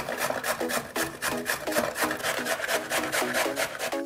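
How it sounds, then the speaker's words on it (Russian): Mushroom stems are rubbed across a coarse grater in quick, even back-and-forth strokes, a close rhythmic rasping of about three scrapes per second that continues without pause. "отрезаем попки, и натираем на крупной терке"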